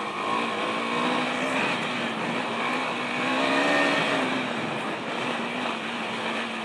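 A 2020 KTM 390 Adventure motorcycle ridden on roads in Tenerife, Spain, its engine droning steadily with rising and falling pitch beneath heavy wind rush, loud and continuous.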